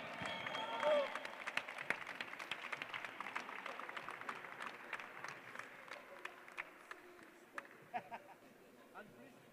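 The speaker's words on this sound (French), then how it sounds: "On peut l'applaudir bien fort." Audience applause at the 2024 French para-climbing championship medal ceremony in Tarbes, a dense burst of clapping and some cheering that thins into scattered claps, with an announcer speaking over it.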